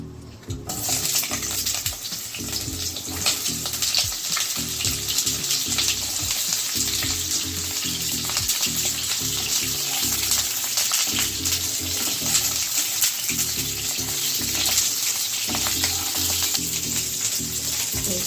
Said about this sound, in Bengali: আগে পটলগুলো ভেজে নিচ্ছি